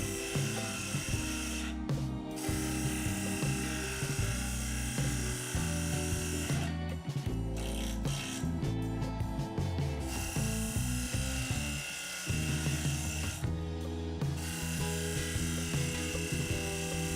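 A wood lathe thins down a cherry and walnut disc, the spinning workpiece humming while the cutting tool scrapes and chatters in uneven bursts, with brief pauses as the tool lifts away.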